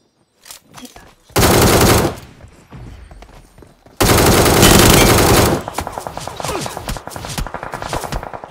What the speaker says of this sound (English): Again, getting shot from the back, bro.